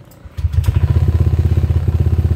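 A Honda Vario 125 scooter starting up: a brief starter whir, then the engine catches and settles into a loud, close, steady pulsing idle.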